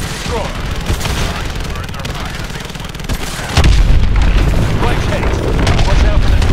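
Missile strikes on the hard points of a hydroelectric dam in Call of Duty: Advanced Warfare, a dense barrage of loud booms and rumbling blasts growing heavier halfway through, layered with game effects and radio voices.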